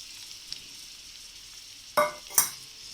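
Sliced bitter gourd frying in oil, a faint steady sizzle broken by two sharp, loud scraping clatters of a utensil in the pan near the end, close by with no voices.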